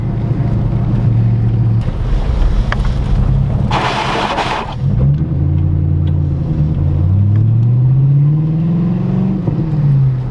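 A car engine revs up and climbs in pitch, then eases off and rises again, loud and close, with a brief burst of hissing noise partway through.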